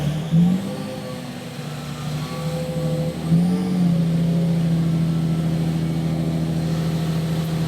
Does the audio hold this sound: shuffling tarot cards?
no